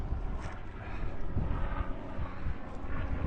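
Breezy wind gusts buffet the microphone on the Atlantic Ocean shore at Fire Island National Seashore on a January day, a steady low roar with no talking.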